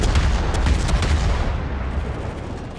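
Warship guns firing in the naval combat game World of Warships: a dense, continuous roll of heavy booming blasts and rumbling low thunder, loud and sustained with no pauses.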